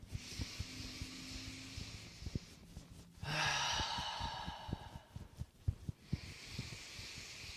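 A slow, deep breath drawn in through the nose during a guided meditation, a soft airy hiss that swells for a few seconds and then eases off, close and quiet, with gentle tapping sounds around it.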